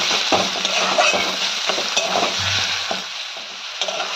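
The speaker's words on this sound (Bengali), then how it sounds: "ভালো করে পেঁয়াজের সঙ্গে এটাকে মিক্স করে নিতে হবে এবং ভালো করে একটু ফ্রাই করে নিতে হবে" Chicken paste sizzles and fries with fried onions in a pan while a spatula stirs and scrapes steadily, close and continuous, with no voices.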